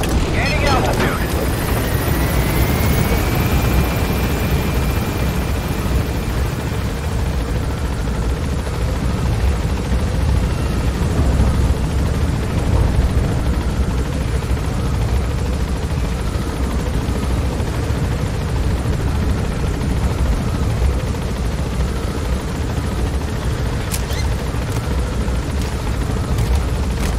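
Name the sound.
helicopter gaining altitude in video game Metal Gear Solid 5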